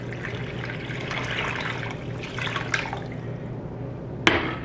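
Water poured into a pot holding 1 kg of chicken, about 1.5 liters going in as a steady splashing flow with a sharp clink near the end, fairly close.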